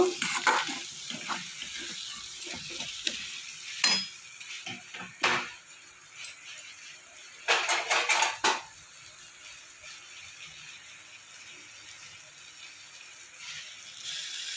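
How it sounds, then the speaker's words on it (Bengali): Ground spices with Kashmiri chilli powder frying in a pan for a vegetarian potato and raw papaya curry, a soft steady sizzle broken by sharp clusters of spoon scrapes and clinks against the pan, close by with no voices. "সমস্ত মশলাটাকে ভালো করে নাড়াচাড়া করে নেব।"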